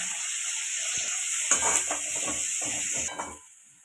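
Garlic, green chili, asafoetida and finely chopped onion frying in plenty of oil in a pan: a steady close sizzle with soft stirring scrapes and a few utensil clinks, and no voices.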